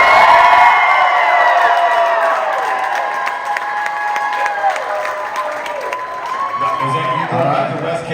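A crowd at a Q&A at the House of Blues in Houston answers with loud applause mixed with cheers and whoops, near and dense, thinning slightly toward the end.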